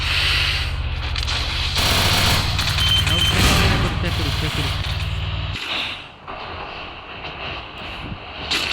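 A video game match erupts with loud bursts of gunfire and grenade blasts, sharp rapid shots layered over a roaring rumble, with a voice speaking excitedly over the action.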